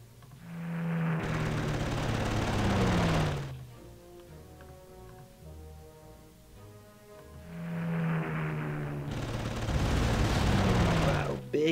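Bombing attack in Panzer Corps, two long rumbling barrages of explosions, each lasting a few seconds, with a quieter stretch of game sound between them.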